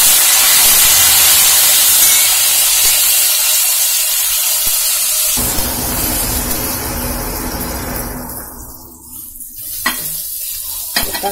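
Tomatoes dropped onto sautéed shallots in a pan while making vallarai chutney, giving a loud, steady sizzle and hiss that rises and then gradually settles.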